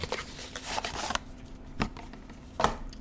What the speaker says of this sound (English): Give her a quick shuffle